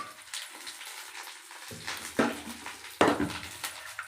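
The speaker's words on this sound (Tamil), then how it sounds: "மொச்சப்பயிறு குழம்புக்கு கடுகு, எண்ணெய் ஊற்றி தாளிச்சிக்கலாம்" Mustard seeds and curry leaves tempered in hot oil for a bean curry, starting quietly and then breaking into sharp bursts of sizzling and crackling with utensil scrapes, close and alone.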